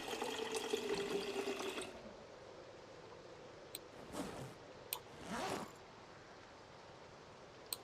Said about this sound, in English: I'm gonna fill that up with water